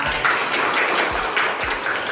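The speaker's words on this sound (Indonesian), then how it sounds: "tepuk tangan untuk kelompok 3" A classroom of students claps for a group after its presentation, a brisk, close burst of hand claps with a rapid, uneven rhythm throughout.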